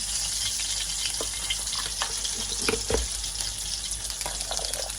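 Mustard seeds frying in hot oil in a home kitchen pan, a steady close sizzle with scattered crackles and pops running throughout, no voices.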